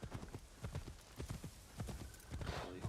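Quiet horse hooves in Assassin's Creed Shadows clop in an uneven rhythm, with a short whinny-like tone near the end, faint and close-sounding.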